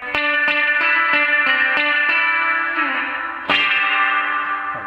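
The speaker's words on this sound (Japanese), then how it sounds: "ハイが上がるので、そのピシャ音がだいぶまだ強調される感じになりますね" A guitar runs through a BOSS FRV-1 Fender spring reverb pedal with treble boosted, so the splashy spring attack stands out as strummed chords repeat with a bright, ringing reverb wash, near and full, with no voices.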